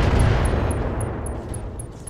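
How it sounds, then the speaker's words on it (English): Hellstorm artillery in the Roguetech mech game lets off a loud, close barrage of booming shots that rumble continuously through the whole brief burst, with faint high repeating beeps over the top. "the Hellstorm artillery is ready to fire once again"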